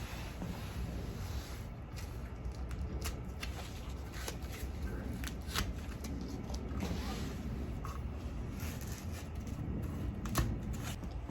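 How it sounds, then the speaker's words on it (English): Packaging is pulled off a drive belt for an Aria R-TEC Automation double splice track system, making close, steady crinkling and rustling with frequent sharp clicks and snaps throughout. "Remove the drive belt packaging"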